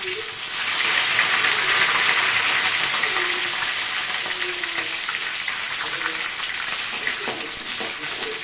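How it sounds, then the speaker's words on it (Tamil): Chopped small onions hit hot oil already popping with mustard seeds for a fish curry, and a steady, close sizzle carries on throughout, with faint stirring scrapes beneath it. "சின்ன வெங்காயம் கட் பண்ணி வச்சுருக்கேன் போட்டுக்கோங்க"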